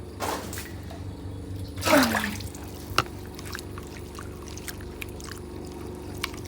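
Water poured by hand for washing at a village tank during rain, one main splashing pour mid-clip over steady background rain and ambient noise, with a few faint drips and knocks.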